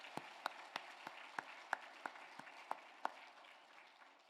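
A church congregation at a Sunday worship service claps in a slow, even rhythm, about a dozen distinct claps that sound faint and distant before fading away.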